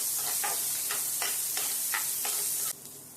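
Onions frying in oil for a country chicken curry, a steady close sizzle with about six rhythmic scraping stirs of the pan that stop near the end, no talking.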